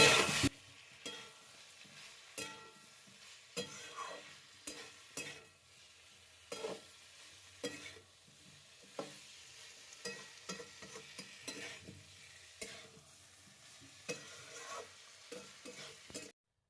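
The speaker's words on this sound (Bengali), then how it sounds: "এবার ব্রোকলিগুলো দিয়ে দিলাম, ব্রোকলি ভাজাগুলো দিয়ে দিলাম। এগুলো সব হলে একটু কষিয়ে নেবো।" Broccoli, with potatoes in a vegetarian Bengali dish, stir-fried in a pan: repeated scraping, clinking stirs over a soft, steady sizzle, fairly close and moderately quiet, with no talking.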